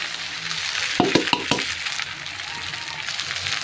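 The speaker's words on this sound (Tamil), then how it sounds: "சோறு எவ்வளோ சோறு வந்துருச்சு பாரு நல்லா பிரட்டி விட போகிறோம்" Cooked rice stirred and tossed in a hot frying pan, giving a steady close sizzle with a few sharp scraping clinks of the spatula against the pan partway through.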